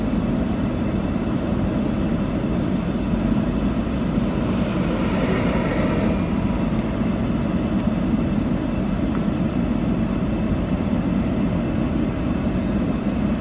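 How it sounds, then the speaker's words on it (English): Fixed-wing airplane circling overhead during the Bobcat Fire, a steady continuous engine drone at moderate distance with a slight swell partway through, over constant broadband background noise. "That's the same plane. He's circling around."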